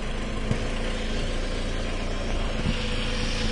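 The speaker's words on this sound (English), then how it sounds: "you can hear the hiss of the vacuum" A Toyota Camry engine idles steadily with a vacuum hose pulled off, giving a constant broadband hiss over the low engine rumble, close and continuous with a couple of faint knocks.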